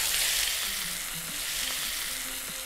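Chicken pieces sear in a thin layer of oil in a pan, giving a steady, close, crackling sizzle with no voices, and faint tonal hums running underneath.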